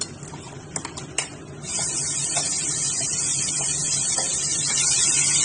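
A few clicks and scrapes come first, then steady hissing and sizzling as ground masala paste for egg curry is stirred in a hot pan.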